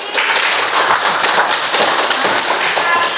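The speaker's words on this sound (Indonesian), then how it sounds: "beri aplaus dulu untuk Adit" A classroom of students clapping for a classmate named Adit, a dense lively burst of many hands clapping together at close range, steady for a few seconds with no speech over it.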